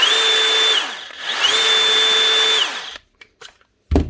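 A Dewalt DCS571 cordless saw, faulty so its blade will not spin, whirs loudly in two steady bursts with a rising start and falling run-down each time, then a few faint clicks and a short thump.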